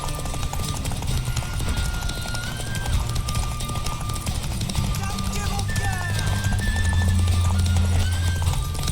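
In The Witcher 3, a horse gallops with rapid, steady clip-clop hoofbeats and whinnies over a busy game soundscape, while someone speaks over it.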